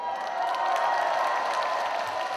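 An audience at a KBS Ulsan women's singing class breaks into steady applause and cheering, a dense wash of clapping from a crowd without any clear voices.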